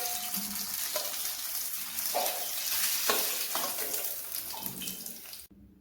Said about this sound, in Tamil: இப்போ நல்லா ஃப்ரை ஆகிடுச்சு.